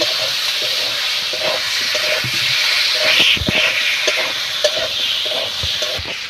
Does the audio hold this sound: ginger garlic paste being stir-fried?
yes